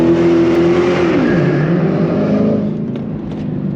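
Supercharged 751 hp Dodge Charger Hellcat drifting, its engine loud and close with a sustained high rev that drops in pitch into a lower roar as the car slides, tire and wind noise beneath, no voices.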